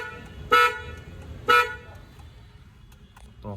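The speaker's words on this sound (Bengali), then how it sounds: "তো এখন শুনে নাও হর্নের আওয়াজটা কিরকম। Trumpet horn" Two short blasts from the upgraded trumpet horn of a Hyundai i10 Magna, heard from outside the car, each about a fifth of a second, a second apart, bright and fairly loud against quiet background.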